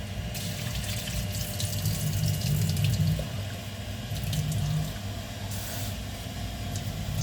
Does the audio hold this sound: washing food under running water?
yes